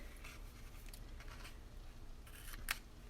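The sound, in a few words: scissors cutting paper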